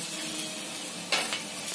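A thalipeeth flatbread fries in a little oil on a gas stove, giving a close, steady sizzle with a couple of brief utensil clicks partway through.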